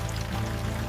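Water poured onto freshly planted tomato seeds in a cartoon farm scene, a brief steady splashing trickle heard alone.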